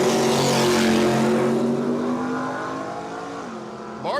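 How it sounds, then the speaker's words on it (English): Drag racing cars, a Mustang against a Ford, launching at a dragway state championship, loud engines roaring and revving then receding into the distance, with a short burst at the end. "Johnson's going to have a hard time running down that Ford"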